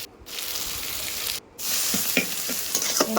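Spice masala of chilli powder and salt frying in a pan while being stirred, a continuous close sizzle with intermittent scraping clicks and a brief gap in the noise.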